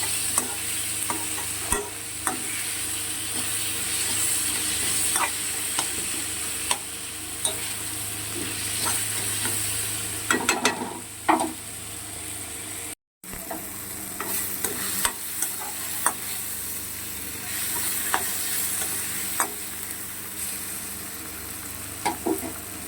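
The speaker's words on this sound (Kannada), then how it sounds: "ಸೊ ಟೊಮ್ಯಾಟೊ ಚೆನ್ನಾಗಿ ಫ್ರೈ ಆಗೋ ತನಕನೂ ನಾವು ಇದನ್ನು ಬಿಡಬೇಕು." Tomatoes fry in a pan with a steady sizzle while being stirred, scraping and clinking sounds recurring throughout, close and fairly loud with no talking.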